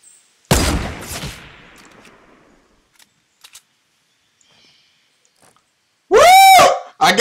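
A single loud gunshot goes off in the video game Fortnite, with a sharp crack and a decaying tail, followed by faint ticks and near silence. A loud tonal game sound cuts in at the end.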